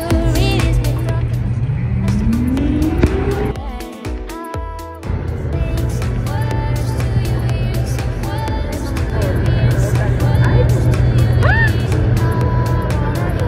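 Street traffic with cars, including Toyota Yaris models, passes along the streets of The Fort BGC, a steady engine rumble heard from inside a moving car with voices chatting over it and a brief dip midway.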